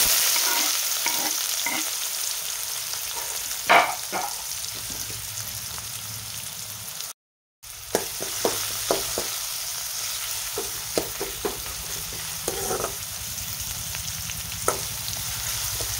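Chopped onion frying in hot oil with cumin seeds, a loud continuous sizzle with repeated scraping and tapping of the spoon as it is stirred, broken by one brief gap of silence.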